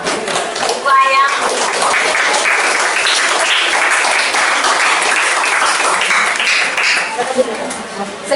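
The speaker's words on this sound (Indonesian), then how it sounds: "kita kasih aplaus dulu untuk kelompok wayang" Audience applause for a wayang puppet group at a school presentation, loud sustained clapping throughout with scattered voices and a few sharp taps mixed in.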